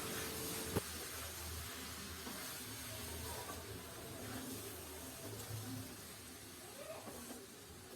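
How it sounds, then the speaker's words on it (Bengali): Peas, potatoes and drained rice stir-fried in a pot, giving a soft, steady hissing sizzle with an occasional faint knock, quiet and continuous with no talk. "মটর আলু চাল প্রায় 3 থেকে 4 মিনিট কষে নেব।"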